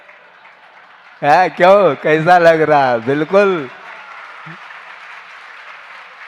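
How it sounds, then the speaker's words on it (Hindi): An audience at a Jain religious discourse claps as a steady wash of applause, with someone speaking briefly over it. The clapping continues softly after he stops. "देखो सब लोगों की तालियां बज रही है"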